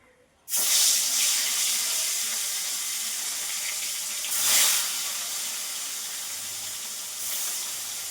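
Water pours steadily from a tap or shower during a bath, a loud continuous hissing rush that starts abruptly and swells briefly twice.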